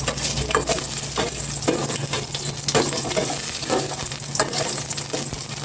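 Garlic sizzles in olive oil in a pan while being stirred. The frying hiss is steady and close, broken by regular scraping strokes, and nobody speaks.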